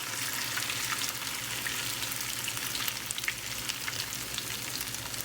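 Potato latkes sizzle steadily in hot oil, a dense, even crackle of frying that holds at constant loudness throughout, close by with a low hum underneath and no talking.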